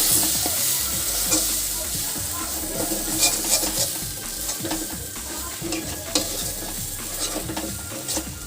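Paneer masala is stirred in a frying pan, with continuous spatula scraping and strokes over a steady loud sizzle, close up, and no voices.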